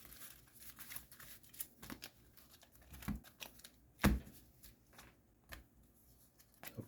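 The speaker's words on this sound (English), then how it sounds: "let's shuffle her back up" Magic: The Gathering cards being shuffled by hand, quiet irregular riffles and soft slaps in a short run of bursts, with one sharper snap partway through.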